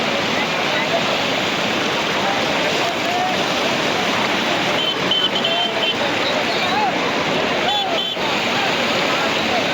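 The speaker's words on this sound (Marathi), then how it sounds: "पाणी उडू राहिलंय" Rushing water after a cloudburst surges and splashes in a steady, loud, unbroken roar, with faint calls rising briefly above the flow.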